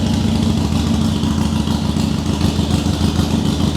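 A Harley-Davidson Iron 883 fitted with a Vance & Hines exhaust idles close by, a loud, steady, lumpy throb that holds its pace throughout.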